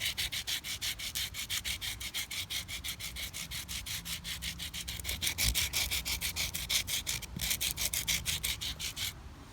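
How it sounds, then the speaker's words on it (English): A baseball is rubbed back and forth on rough pavement to scuff it, a fast, steady run of loud gritty scrapes in even strokes, close up, continuing for several seconds without talk. "So I found some pavement here, so I'm just gonna rub the ball on it on one side"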